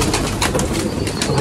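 Pigeons in a loft coo steadily and up close, a thick, low murmuring chorus broken by soft flutters.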